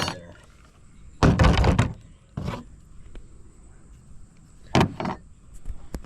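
A stuck stripper clip is worked out of a WW2 military surplus rifle, with a few loud metallic clunks and rattles in separate bursts and quiet handling sounds between them.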